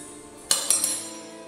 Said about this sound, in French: je rajoute ma cuillère à soupe d'huile dans la casserole